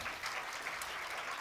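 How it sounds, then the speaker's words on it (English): A hall of standing students at an award ceremony bursts into a brief, thick wash of clapping, loud and close, lasting just over a second. "Clap once again."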